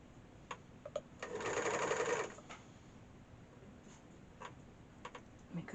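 A sewing machine runs around the edge of ski pants in one short, fast rattling burst of stitching, with faint ticks and clicks before and after in a quiet room.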